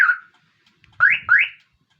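A motorcycle alarm system on a Yamaha NMAX V2 chirps three times, with short rising siren-like tones, loud and close, separated by brief silences.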